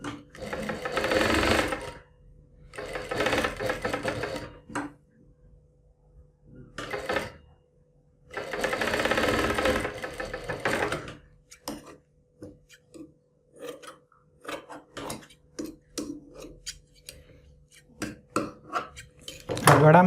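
A sewing machine stitches the neckline of a synthetic-fabric garment with embellished work, running in several loud, stop-start bursts of steady whirring separated by quiet pauses and small handling noises.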